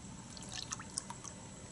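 Rain-X wash and wax car soap with carnauba beads poured into a bucket of water; faint, close dripping and trickling splashes with small scattered plinks over quiet background hiss.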